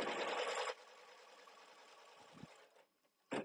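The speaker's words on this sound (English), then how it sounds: "So I'm going to put a line up here to hold this fabric nice and tight for me" An embroidery machine stitches a holding line across fabric, running as a loud, dense burst that then drops to a quieter steady whir before stopping, followed by a couple of short mechanical thuds.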